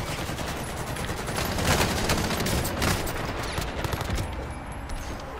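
Automatic weapons fire from hip-fire in the video game Warzone: dense, continuous rattling bursts of shots, loud and close, filling the whole clip with no speech over them.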